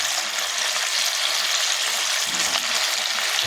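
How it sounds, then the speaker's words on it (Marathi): Vegetable manchurian balls made with cabbage, radish, carrot and onion deep fry in hot oil, giving a dense, steady sizzle that stays loud and close throughout. "तर आता आपण हे जे आहेत ते सगळे तळून घेऊया."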